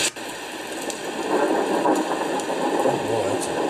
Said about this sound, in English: It's like a rain sound.